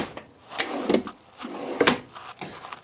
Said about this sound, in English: Got full extension drawers.